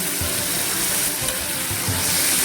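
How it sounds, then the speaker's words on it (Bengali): Tomato puree hits a hot pan of jackfruit and shrimp, giving a loud, continuous oily sizzle with faint stirring scrapes throughout and no voices. "আমি টমেটো পিউরিটা দিয়ে দিই এখানে"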